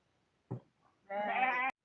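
A sheep on a farm, one that missed last year's shearing and is now shedding wool, gives a short low grunt and then a long wavering bleat, close and clear with no talk.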